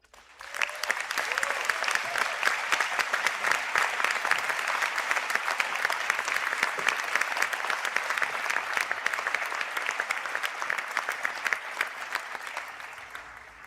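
Sustained round of applause for Fine Arts graduates at a conferring ceremony, dense crowd clapping that swells quickly and holds steady for over ten seconds before fading.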